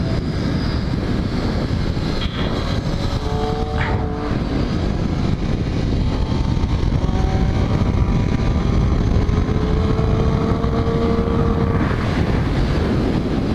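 A motorcycle circles Thompson Speedway race track in Connecticut counterclockwise, its engine a steady loud drone buried under heavy wind rush at the microphone, with faint rising and falling pitch as it shifts, no voices.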